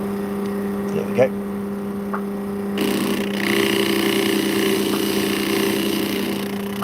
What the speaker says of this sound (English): That is the sound of a buckled pad